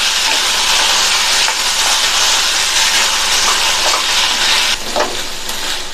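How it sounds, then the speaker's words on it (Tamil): Cauliflower sautés in masala over a high flame for a kurma, a loud, steady sizzle with hissing steam and occasional stirring clinks, close up and without talk. "இப்போ ஹை ஃப்ளேமில் வச்சு நல்லா 3 நிமிஷத்துக்கு வதக்கியாச்சு"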